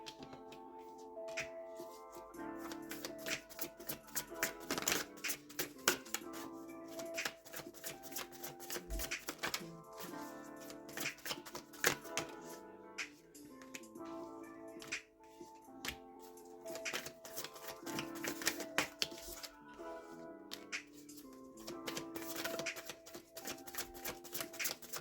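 A deck of tarot cards being shuffled, giving a busy run of dense, rapid riffling and flicking clicks that continues steadily and fairly close for the whole stretch, with no talk over it.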